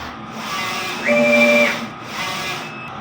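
A DTF printer runs a nozzle test, giving a steady mechanical whir with a brighter tonal hum of the print head moving across for about half a second in the middle, then a softer pass near the end.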